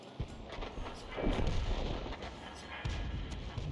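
A 105 leFH18B2 self-propelled howitzer fires artillery shells in the World of Tanks video game, heavy booming reports rolling out over continuous game background noise, with voices talking underneath.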